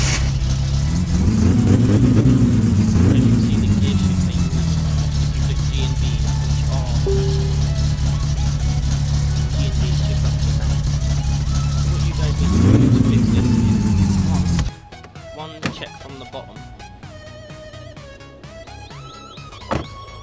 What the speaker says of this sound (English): I'll enter driving mode, my car will start.